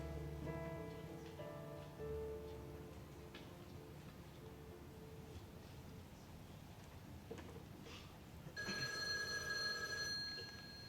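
A telephone ringing indoors, a faint repeated electronic ring with steady tones over quiet room noise, no talk.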